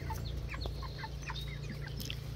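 Backyard garden ducks, some of them large, make a scatter of short quacks and clucking calls over a steady low hum from nearby equipment.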